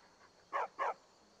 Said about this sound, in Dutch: Oh, een hond.